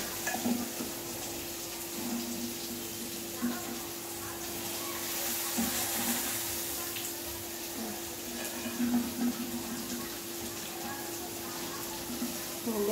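Food soaked and then dropped into a pan sizzles and fries steadily in a home kitchen. Faint stirring and utensil clinks come through, and a person talks quietly over the cooking.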